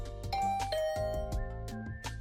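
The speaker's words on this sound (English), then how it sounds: "I rang the doorbell" Chimes ring out in a short melodic ding-dong sequence, clear and prominent, from a doorbell in the video game Hundred Line Last Defense Academy, layered over game music.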